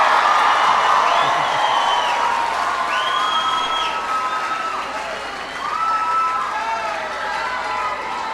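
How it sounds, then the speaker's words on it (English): A town hall crowd in Costa Mesa, California applauds and cheers, loud clapping mixed with whistles and whoops, easing slightly midway before swelling again. "Give yourselves a big round of applause."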